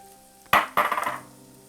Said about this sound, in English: I'm gonna start by sauteing my onions